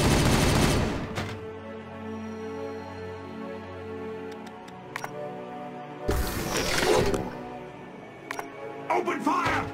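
Gunfire in the Warhammer 40,000: Regicide strategy game, with loud bursts of shots at the start and again in the middle, sharp single cracks in between, and faint battle sounds and voices underneath.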